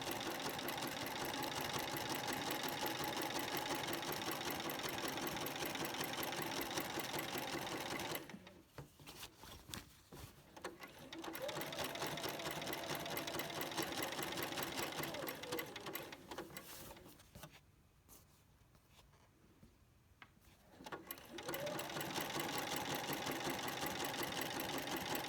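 A sewing machine stitches an appliqué orange peel border in a fast, steady mechanical chatter, pausing twice for a couple of seconds before resuming.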